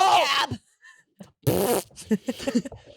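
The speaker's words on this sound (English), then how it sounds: "That was the first actual fart that we heard on this podcast." A short, close fart sound during a casual podcast recording, followed by people talking and laughing.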